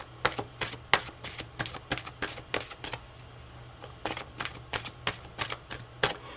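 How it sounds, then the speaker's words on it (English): Tarot cards being shuffled and cut, a quick run of crisp riffling clicks and snaps in bursts with a short pause midway, close and fairly loud with no talking. "So I'm just going to shuffle and cut some more."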